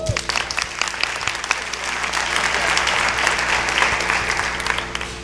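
A school district audience at a State of the District event applauds a principal honored as Principal of the Year, with sustained, fairly loud clapping from a large room that swells slightly in the middle before easing off.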